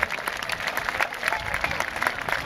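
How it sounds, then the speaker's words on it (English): An audience claps in a brief, continuous burst of applause, many hands close together at a steady level, with a little crowd murmur mixed in. "Give him a round of applause,"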